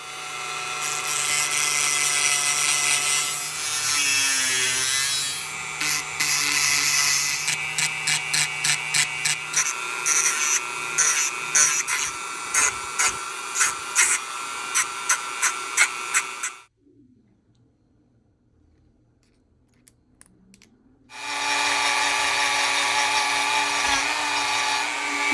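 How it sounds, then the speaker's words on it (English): A power tool grinds down a Kalashnikov pocketknife scale with a loud, sustained whine. A run of rapid pulsing passes comes partway through, then a brief near-silent pause, and the grinding resumes. "so we're gonna grind that down"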